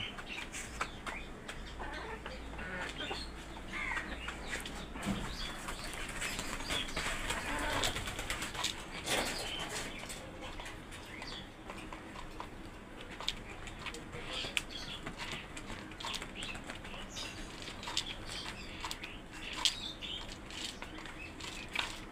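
Chickens and pigeons gathered at feeding time in a backyard, cooing and clucking scattered across a soft, continuous background, faint and mid-distance, with occasional chirps and rustling.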